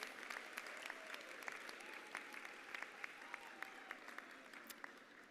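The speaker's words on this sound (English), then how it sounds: "let's give a round of applause to all our adaptive graduates" A graduation audience applauds the graduates at a university ceremony, producing soft, distant, scattered clapping with a few sharper individual claps standing out over a steady crowd wash.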